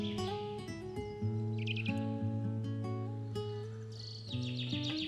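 Birds chirp and tweet in the Hyrcanian Forest, with a steady layered stream of close, bright calls and trills over a sustained tonal background, no voices present.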